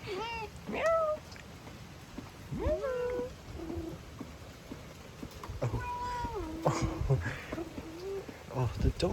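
A house cat meows repeatedly outside a locked door, several rising and falling calls spread through the clip, with birds cooing and chirping in the background on a windy, rainy day.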